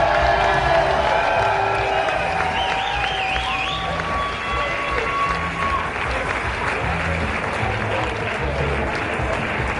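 A crowd at a boxing event in Fürstenwalde applauds the organizers and crew, with steady dense clapping and cheering throughout, some whistles rising over the loud, continuous din.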